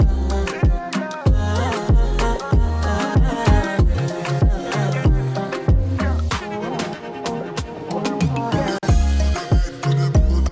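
An Afro/moombahton remix beat built in FL Studio plays loud and punchy, with driving kick and snare hits, tom fills, quick rolls and layered effects in a bouncy, syncopated groove.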